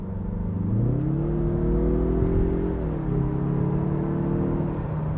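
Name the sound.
Mazda CX-30 Turbo engine accelerating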